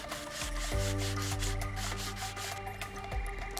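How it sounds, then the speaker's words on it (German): Old-school sandpaper rubbing along train rails during a station renovation game, continuous close scraping strokes with a steady low drone underneath, no talking. "Mit dem guten Oldschool-Schleifpapier."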